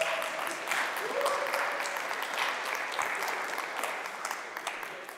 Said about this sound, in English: I would love to have a round of applause for my team for making this happen